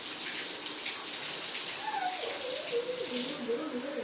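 Steady running water as a father bathes with a household tap or bucket, a continuous broad wash of flow with a few gurgling shifts toward the end, close by and fairly loud.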